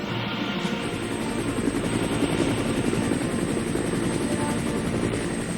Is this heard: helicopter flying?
yes